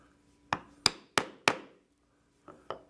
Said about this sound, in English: I will once again take my stitching chisel and I will punch on through these holes